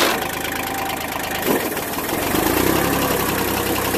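A vehicle engine labours in a low gear, a steady loud mid-pitched drone with a slight knocking texture, running continuously close by with no talk.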